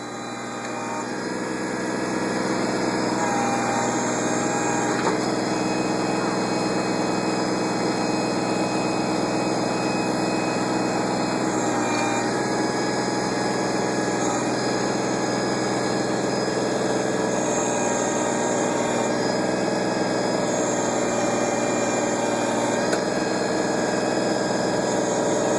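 A backhoe engine runs steadily throughout at close range, a loud continuous mechanical drone with slight shifts in load, operated by a four-year-old child on a farm.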